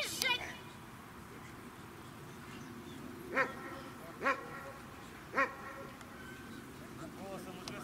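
Dog at an obedience competition giving three short, separate barks spaced about a second apart, faint and set against a quiet outdoor background.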